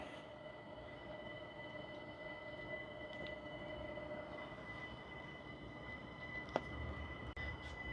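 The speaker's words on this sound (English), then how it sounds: "There's my model trains coming in." Model trains rumble along the track at a steady low level, with a faint metallic whine and an occasional click, fairly quiet and continuous.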